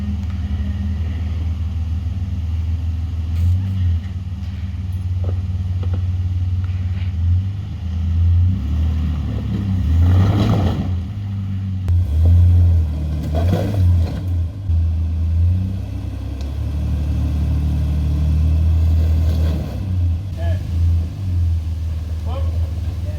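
A 4WD vehicle engine labours up a rocky track in Toolangi, a steady low rumble that swells and revs in bursts, with people talking over it.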